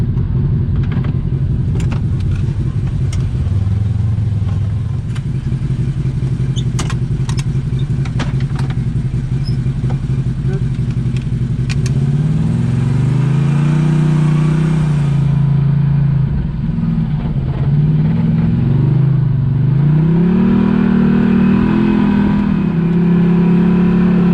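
A 2021 Maverick Sport XRC/XMR UTV on XM310 mud tires drives a dusty trail, its engine a loud, close rumble that rises and falls as the driver throttles and shifts, with wind and tire noise throughout.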